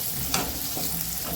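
Eggs frying among onions in a pan for egg biryani, a steady low sizzle with a couple of brief spatula scrapes, close and moderately quiet.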